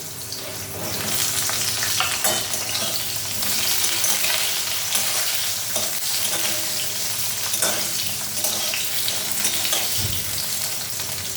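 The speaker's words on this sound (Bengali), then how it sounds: "বেগুনটা একটু ভাজতে হবে।" Eggplant frying in a hot pan for a leafy greens dish: a loud, steady sizzle of oil with occasional scraping stirs of a spatula, close up and continuous, with no voices.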